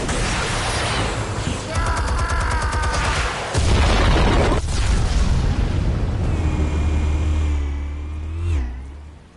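Explosives detonating in a Batman video game, deep booming blasts with roaring rumble and a long fading low tail, loud and close amid mechanical whirring.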